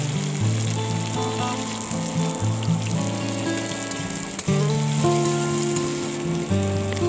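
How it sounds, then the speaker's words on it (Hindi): Tomatoes with black pepper fry in a pan until soft. A steady crackling sizzle continues throughout, with background music playing over it. "इन टमाटरों को हमें अच्छे तरीके से भूनना होगा ताकि ये नरम हो जाए।"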